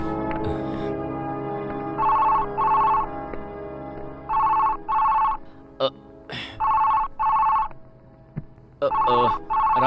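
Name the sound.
telephone ringing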